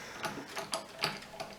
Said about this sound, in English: you're going to take the guitar winder, string winder,